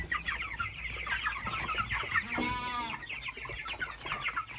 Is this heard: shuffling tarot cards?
no